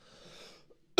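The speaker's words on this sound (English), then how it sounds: "I apologize for the coughing." A single sharp, loud cough bursts out at the very end, after a stretch of faint background hiss and near silence.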